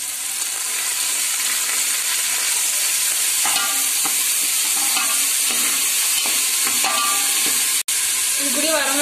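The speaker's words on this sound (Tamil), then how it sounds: "இப்போ வந்து இஞ்சி பூண்டு பேஸ்ட் போட்டுக்கலாம்." Ginger garlic paste frying in a pan for vallarai keerai rice, a steady loud sizzle with repeated scraping stirs and clinks running through the whole stretch, no talking.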